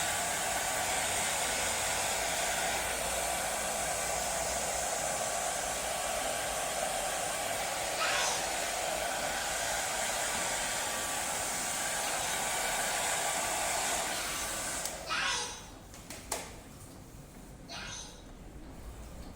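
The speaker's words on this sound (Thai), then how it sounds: "ตัวไดร์ฟาผมจะช่วยการเก็บขอบขาวนะครับ" A hair dryer blowing steadily on the edges of a DTF print transfer, a loud, continuous close-up whoosh of airflow that cuts off near the end, followed by a few handling knocks.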